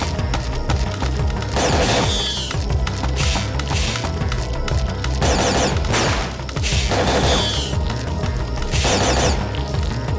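A grenade launcher fires repeatedly in Parasite Eve 2 on the PS1, with loud booming blasts and crackling explosions bursting in clustered volleys over a steady game background.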